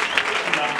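A crowd cheers and claps in a short, loud burst of dense applause and shouting, with no gaps.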